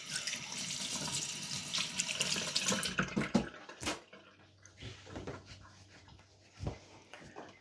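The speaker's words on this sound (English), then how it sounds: "Let's wash my hands." Tap water runs into a kitchen sink while hands are washed after cooking ratatouille, a steady close splashing hiss for about three seconds, then quieter intermittent drips, clinks and handling sounds.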